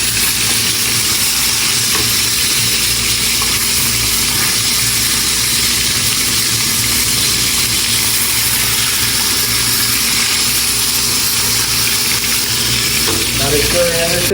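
Chicken pieces frying in a pan for a home-cooked roast, a steady loud sizzle running throughout with a faint hum underneath.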